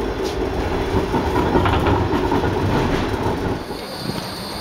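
A tram in Frankfurt rolls past close by, loud steady rumble with rhythmic clickety-clack of wheels on rails that fades slightly near the end, with no talking.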